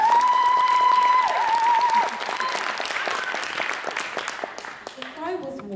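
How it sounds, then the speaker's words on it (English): An audience at a young poet laureate audition at the Library of Birmingham breaks into loud, sustained clapping that gradually thins and fades, while a thin whistling tone rings early on and a voice begins at the end. "please give a massive round of applause for Natasha Brown"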